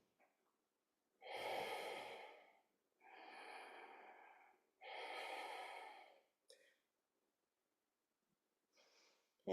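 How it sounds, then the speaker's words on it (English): Slow ujjayi ocean breathing in a vinyasa yoga class, three long, audible, rasping breaths drawn close to the microphone with quiet pauses between them, then a few faint brief breaths near the end. "And if you can, cultivate the ocean breath"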